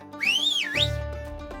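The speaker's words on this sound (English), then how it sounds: "She whistled." A single clear whistle glides up, dips and rises again, then gives way to a deep rumble that swells and lingers.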